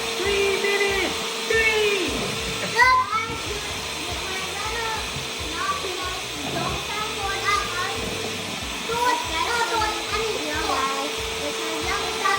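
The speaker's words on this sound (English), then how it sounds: "And you want to whisk it on high" An electric hand mixer whisks red velvet cheesecake batter on its high setting, giving a steady whirring drone that runs throughout while a person talks over it and kids can be heard in the background.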